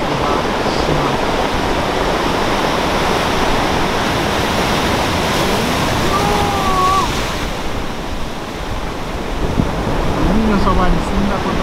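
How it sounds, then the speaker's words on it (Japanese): Ocean surf crashing steadily on a Hokkaido shore, a continuous loud roar of breaking waves with wind buffeting the microphone and no pauses throughout. "ちょっと波すごいな"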